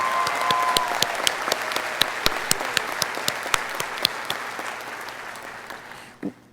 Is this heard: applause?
yes